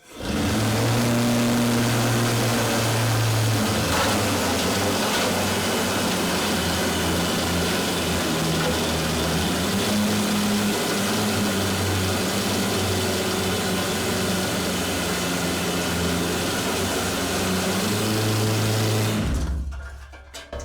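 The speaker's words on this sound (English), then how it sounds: "This machine's going to make a little noise, but keep your eye on that slusher bucket." A mining slusher hoist in an old Wallace, Idaho mine runs loud and steady for about nineteen seconds, pulling its slusher bucket with a constant mechanical drone and rattle, then cuts off abruptly near the end.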